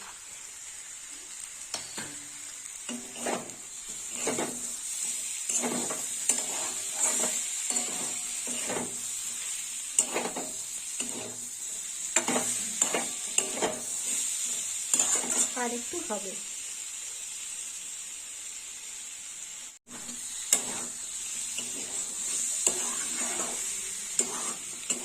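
Potato and brinjal sizzle steadily in a pan nearby while a spatula clatters and scrapes in repeated strokes; a voice speaks briefly.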